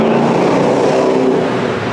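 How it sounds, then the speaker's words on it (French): A big car rumbles loudly past on a Budapest street, its engine roar close and sustained throughout, with no talking. "il y a beaucoup de grosses voitures aussi à Budapest"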